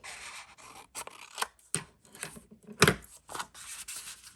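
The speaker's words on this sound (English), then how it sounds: "So I do not like how I have lining on them. Just going to trim it." Paper cards being trimmed with scissors for a handmade flipbook album, giving a series of short, crisp snips and slicing rubs at irregular intervals, close and fairly quiet, with no talking.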